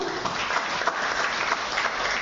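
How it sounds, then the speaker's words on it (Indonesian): Steady audience applause at a Perindo party event in East Java backing Khofifah and Emil Dardak for governor, applauding someone speaker; dense clapping fills the whole stretch at a moderate, even level with no voices. "Kita berikan tepuk tangan sekali lagi kepada Ibu."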